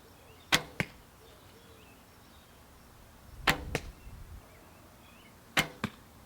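Arrows loosed from an oak bow backed with thin glass fixed by cyanoacrylate super glue, three separate shots, each a sharp twang-and-thwack pair, loud and close with quiet between.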